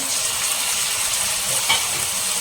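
Onions and tomatoes sauté in a pan for a goat intestine gravy, giving a steady, close frying hiss that holds at an even level throughout, with one brief brighter sizzle near the end.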